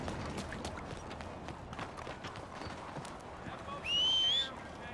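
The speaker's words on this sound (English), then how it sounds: "That horse don't listen." Rapid hoofbeats clip-clop steadily as a horse runs in Red Dead Redemption 2, followed near the end by a brief high whinny-like squeal.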